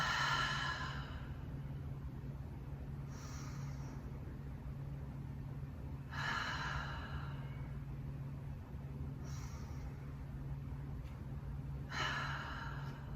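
Deep, slow exhales during a Pilates mat core workout breathing exercise come in three audible rushes of breath, several seconds apart, over a faint steady background hum.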